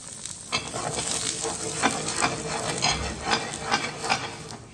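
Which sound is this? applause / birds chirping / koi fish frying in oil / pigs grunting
koi fish frying in oil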